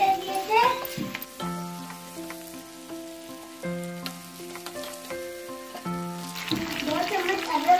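Four roughly cut tomatoes go into a hot pan for vegetable biryani. The frying gives a hissing sizzle that is strongest at the start and the end, with gentle melodic music playing over the middle.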